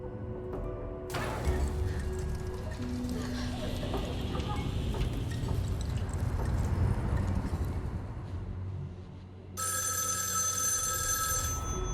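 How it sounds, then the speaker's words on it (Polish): Phone ringing in the interactive thriller video game Erica, a loud electronic ring that cuts in and out over a low ambient backdrop, with no one talking. "Tak, dzwoniące z nienacka telefony."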